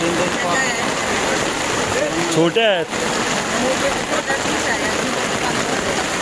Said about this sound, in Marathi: पाऊस भरपूर लागत आहे